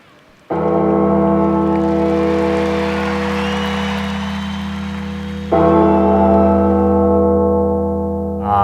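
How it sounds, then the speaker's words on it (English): Hell's Bells rings out over a stadium sound system during a Padres ceremony for closer Trevor Hoffman, a loud sustained tolling bell with deep droning tones, briefly dropping before a second heavy bell strike swells back. "and they played Hell's Bells"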